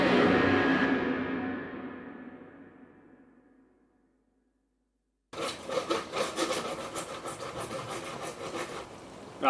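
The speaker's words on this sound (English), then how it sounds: "what Casey's doing there is just sawing off the front sill now" Loud sawing through a wooden door sill during a composite French door installation ends in a decaying ring, a few seconds of silence, then steady rasping cuts resume, close and continuous.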